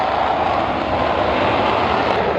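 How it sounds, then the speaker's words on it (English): A Folland Gnat jet fighter chases Sabre jets in a dogfight, a loud steady roar of jet engines that holds without a break. "The Sabres, realizing they have a gnat on their tail, immediately do a hard brake left, and Sekho follows them on the turn"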